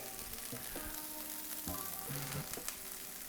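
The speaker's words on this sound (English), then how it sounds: "we're just gonna saute them real quick" Vegetables sautéed quickly in a hot pan give off a steady, even sizzle, with a few soft scrapes and shifts as they are moved. No one speaks.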